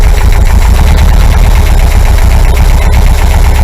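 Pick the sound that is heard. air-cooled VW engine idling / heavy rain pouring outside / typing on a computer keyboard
air-cooled VW engine idling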